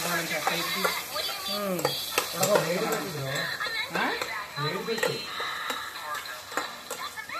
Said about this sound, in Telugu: మనోడు టమాటా వేసాడు, కలుపుకుంటున్నాడు